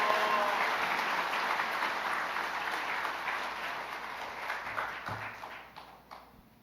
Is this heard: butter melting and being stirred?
no